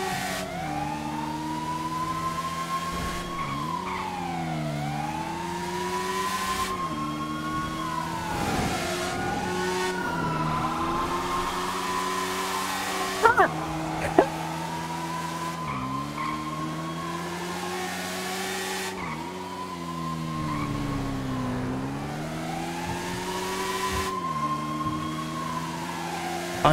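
A fast motorbike engine in a video game, revving continuously with repeated rising and falling pitch sweeps as gears shift, loud and steady throughout with no talking.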